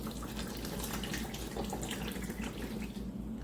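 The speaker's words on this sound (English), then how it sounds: "we'll look at the amount of water that's gonna fall" Water falls from a Vileda EasyWring spin mop after spinning, making a steady, faint trickling splash that runs continuously in a quiet indoor space.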